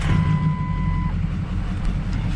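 A 6.0L Powerstroke diesel engine runs with a steady, loud low rumble, while a thin electronic chime tone sounds for the first second.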